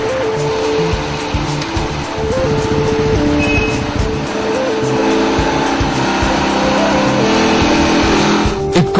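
A Royal Enfield motorcycle engine drones steadily and loudly throughout a road test on a scenic testing track, checked for roadworthiness and brake efficiency, with a constant low hum and no breaks.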